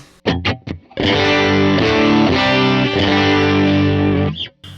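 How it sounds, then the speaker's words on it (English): An electric guitar through a Diamond Comp SE optical compressor pedal plays a few plucked notes, then a long sustained chord rings out evenly with smooth, compressed volume before fading. "here it is with the Diamond compressor on."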